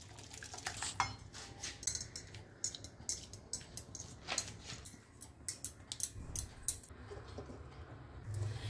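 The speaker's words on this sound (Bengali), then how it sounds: "এটাকে আমি বাটিতে ঢেলে নিচ্ছি" Cooked sarson ka saag is spooned from a pan into a bowl, with irregular close metallic scrapes, clinks and taps of a spoon on cookware, fairly quiet.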